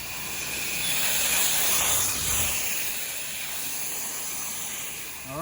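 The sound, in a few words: pressure washer spraying in rinse mode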